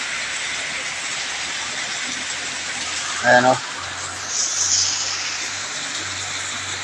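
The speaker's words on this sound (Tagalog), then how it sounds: "Ulan na naman dito sa amin." Heavy rain pours at a house, a steady broadband hiss throughout, with a person speaking briefly partway through.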